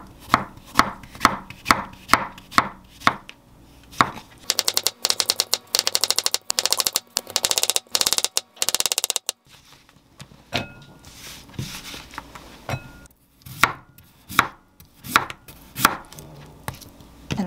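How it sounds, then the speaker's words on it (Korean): A knife chops tomato and beef into small pieces on a cutting board for soup, giving quick rhythmic taps, then a dense rapid flurry of cuts, then scattered knocks, close and alone. "저는 약간 떠먹기 좋게 최대한 작게 썰으려고요"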